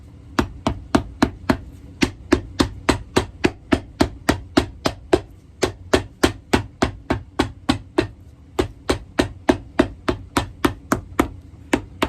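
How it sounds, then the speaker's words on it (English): A long run of loud, regular hammer strikes on a vintage lineman boot heel rings out up close, evenly paced, with a couple of short breaks in the rhythm. "Hammer time."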